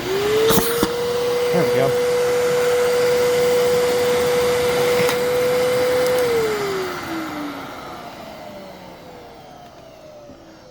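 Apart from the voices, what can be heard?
Fantom Fury vacuum cleaner running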